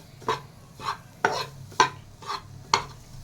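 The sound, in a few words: khoya roasting and being stirred on low flame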